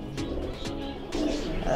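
Pigeons in a loft coo softly, low throaty calls repeating under a murmur of background noise, with faint chirps mixed in and no clear speech.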